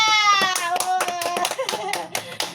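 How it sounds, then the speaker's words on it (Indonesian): Classroom clapping for a student who answered correctly, a short burst of hand claps under loud children's voices and chatter, sharp taps fading into talk. "Tepuk tangan buat Tasya."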